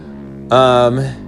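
The small engine of a kids' Riot S120 snow bike kit suddenly revs with a loud, buzzing, high-pitched whine, holding briefly before dropping back toward idle.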